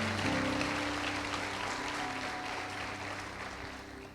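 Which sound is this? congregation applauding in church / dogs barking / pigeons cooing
congregation applauding in church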